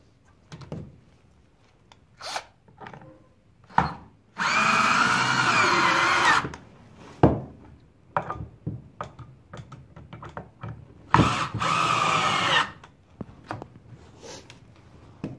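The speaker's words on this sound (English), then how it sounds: "we're going to just screw this right down to the table to hold it still for us" A power drill drives screws into a wooden table to hold a workpiece still during eastern red cedar dish making, two loud whirring bursts of a couple of seconds each among scattered close taps and handling knocks.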